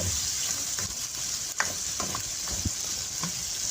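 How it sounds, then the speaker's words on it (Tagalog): Chayote sautéing in butter in a pan, a steady close sizzle with scattered soft stirring scrapes and small taps, no voices. "Ginisa lang natin to sa butter yung"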